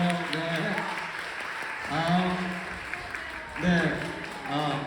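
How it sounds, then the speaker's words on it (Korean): An audience at a Korean book talk applauds as the author, a professor, comes forward. Soft, steady clapping runs beneath an announcer's voice, which speaks over it the whole time. "여러분, 함께 박수 보내주시고 받겠습니다"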